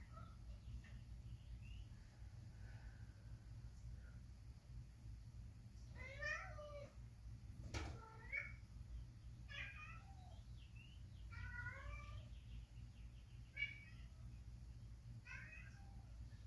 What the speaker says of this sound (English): my cat is trying to get in.